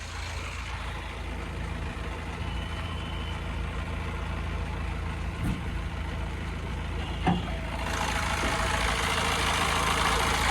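A 2015 Honda Mobilio diesel engine, with its original radiator and timing parts, idles steadily at close range for about ten seconds, an even low drone with a couple of faint clicks and no talk.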